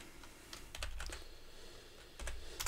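Keystrokes tapping on a noisy computer keyboard, a few scattered clicks, then short bursts of fast typing at close range, alone with no voices.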